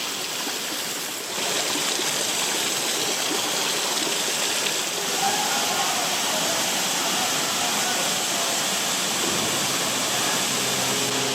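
A waterfall in Australia's Blue Mountains roars steadily with a dense, continuous rush of water that stays loud and even throughout.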